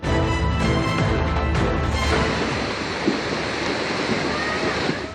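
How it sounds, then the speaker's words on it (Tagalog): Strong floodwater current rushing through Barangay Solo in Mabini, Batangas, during monsoon rains, a loud, continuous roaring wash of water with wind buffeting the microphone. "ganito kalakas ang agos ng baha sa Barangay Solo, Mabini, Batangas."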